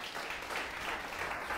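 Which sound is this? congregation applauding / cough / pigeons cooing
congregation applauding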